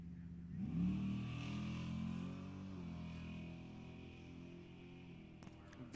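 A 1968 Chevrolet Camaro and a Lexus SC300 racing in NHRA Sportsman E.T. bracket drag racing: a loud, steady engine roar rising as the cars launch and hold at high revs, with no talk over it.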